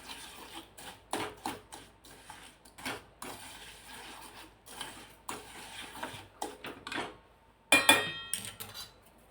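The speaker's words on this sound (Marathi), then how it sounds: "मध्ये मध्ये असं हलवायचं सुद्धा, कारण हे तळाला चिकटलं नाही पाहिजे" A spoon scrapes and clinks against a cooking pot as lemon pickle is stirred, with irregular quiet taps and scrapes repeating throughout and a louder burst near the end.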